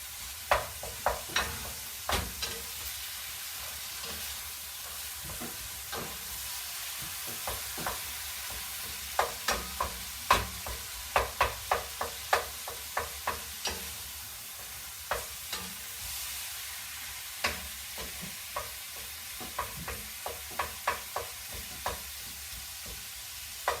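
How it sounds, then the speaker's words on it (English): Ground beef for chili frying in a pan while a spoon stirs and breaks up chunks, giving a steady sizzle broken by repeated sharp scraping clicks of the spoon against the pan. "I'm going to give the beef a stir."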